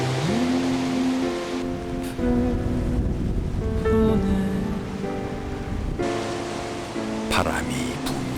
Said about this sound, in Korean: 맹골 수역 사나운 파도를 깨우는 세찬 바람이 붑니다.